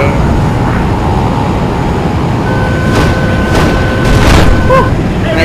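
A jet aircraft in Battlefield Play4free roars with a loud, steady engine rush during takeoff, overlaid by a thin whine, a few distant booms and thuds of gunfire, and faint talking.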